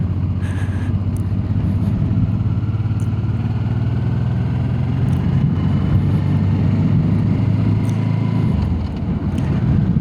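A car drives through city streets, its engine and road noise forming a close, steady drone that hardly changes over ten seconds, with no one talking.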